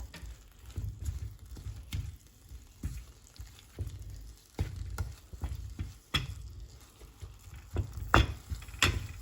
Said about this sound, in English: I have about 4 tablespoons of coconut, desiccated coconut, and I'll let that cook for a few minutes.